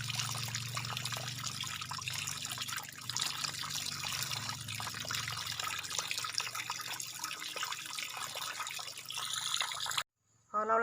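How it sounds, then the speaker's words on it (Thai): Caladium bulbs are rinsed under running tap water: a steady, close, continuous flow and splash that stops abruptly for a moment near the end. "ล้างจนยาง คัน หายไปค่ะ จนยางคันสะอาดเลยค่ะ"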